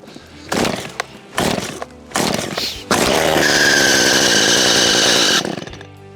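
A small chainsaw is pulled over several times with short sputtering bursts, then catches and runs steadily at close range with a high-pitched squeal from its clutch, before the revs drop off.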